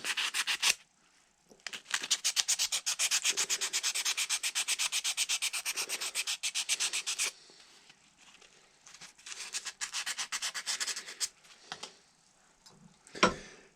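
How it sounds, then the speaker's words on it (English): Sandpaper polishing a cooled steel flintlock part, heard as fast rhythmic scraping strokes up close, a long steady run, a pause, then a shorter, quieter run of rubbing ending in a knock, no talking. "just take some sandpaper and remove any debris and polish it up a little bit"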